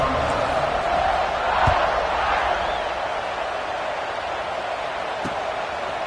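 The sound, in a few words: stadium crowd buzzing in the video game NCAA Football 26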